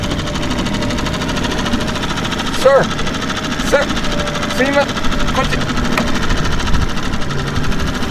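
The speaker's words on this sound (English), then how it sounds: "Don't get near the engine, it's dangerous." A boat engine runs steadily and close by, a continuous mid-pitched drone with a rattling vibration, while voices break in with brief exclamations over it.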